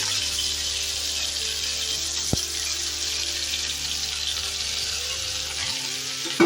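Chopped chukka leaves fry in hot oil for a Telugu-style chutney, giving a steady, close sizzle that carries evenly throughout with one brief clatter partway and a small knock at the end.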